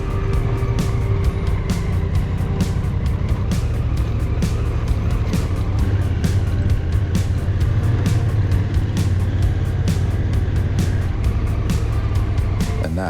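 Dirt motorbikes ride a sandy, rocky trail littered with washes and rock gardens in Baja. Engine drone runs loud and continuous throughout, with rapid rattling clicks and knocks over it and no talking.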